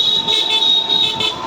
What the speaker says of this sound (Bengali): হর্ন কম বাজাও সব দূষণ কম করো